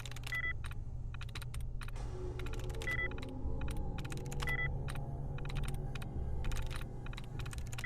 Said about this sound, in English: I often forget people need to use the keyboard to access a terminal.